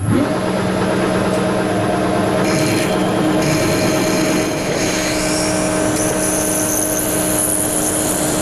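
Steady machining hum of an 8.5 mm drill, fed by hand, boring through a steel SK30 (DIN2080) holder, with a constant loud whine and scraping grind that shifts in tone midway through.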